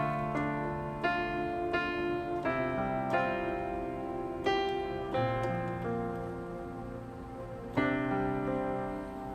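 Solo piano plays the third line of the Titanic theme, with sustained left-hand chords under a slow melody and distinct note onsets every second or so, close and clear with no talking.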